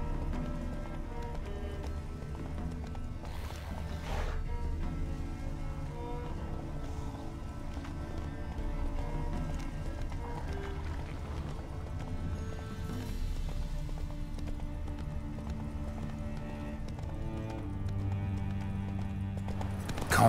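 A horse gallops in The Witcher 3: Wild Hunt, its hoofbeats drumming in a steady rapid rhythm over soft game ambience, fairly quiet and alone with no talk.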